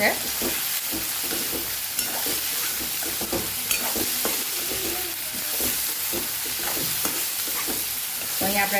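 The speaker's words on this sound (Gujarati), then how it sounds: "ટમેટાને સાતળી અને તરત જ આપણે પૌવાને આમાં ઉમેરી દેવાના" Tomatoes sizzle in a pan for kathiyavadi bateta pauva, with poha about to be added, giving a steady frying hiss broken by repeated scrapes and clicks of stirring, up close.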